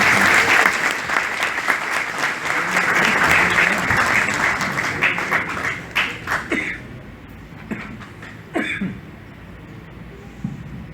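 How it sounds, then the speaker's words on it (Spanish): An audience at a seminary graduation bursts into loud, sustained applause that thins out after several seconds into scattered claps and a few coughs. "Fuertes palmas para nuestro hermano Jorge Alonso Cueva."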